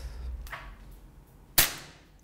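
A SIG P226 custom gas blowback airsoft pistol fires 0.25g BBs, giving one softer snap followed by a single sharp, loud crack in an otherwise quiet room.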